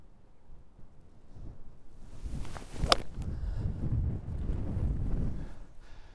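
Wind gusting across an open golf course, a steady rushing buffet on the microphone that swells and stays loud, with a brief sharp thump partway through and no speech.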